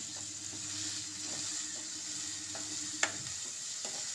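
Onion and tomato base for a mushroom and peas curry sautéing in a pan, a soft, steady sizzle with occasional light scrapes and taps of a stirring spoon, close and quiet.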